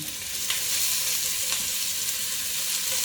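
Chicken liver fries with sliced onions and salt in a pan, giving a steady, close hiss of sizzling oil with a few faint stirring touches.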